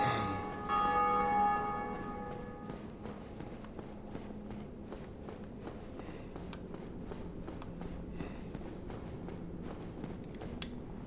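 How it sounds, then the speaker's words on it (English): Deep tolling of the Bell of Awakening in Dark Souls, a single resonant strike with long ringing overtones that fade over a few seconds, followed by ambient game rumble and soft footstep-like taps. "Let's go ring the second bell of awakening."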